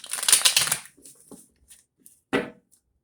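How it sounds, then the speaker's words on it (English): Tarot cards are shuffled in a quick riffling burst, followed by a few soft taps and shuffles, then one more short sharp riffle. "Taurus, one more shuffle, you versus them."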